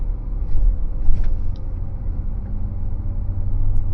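Inside a Mahindra Scorpio N with a manual gearbox, the engine drones low and steady as it is given throttle in first, a close, even rumble with a slight rise and no talk.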